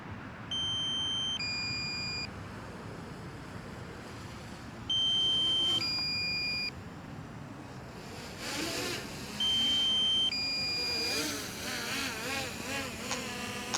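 A drone's remote controller emits three separate bursts of electronic beeping, each a pair of steady tones stepping down in pitch, against outdoor wind and a faint motor whir.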